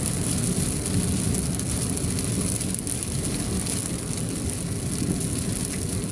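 Steady light rain patters continuously with a soft broadband hiss, even in level throughout and no voices.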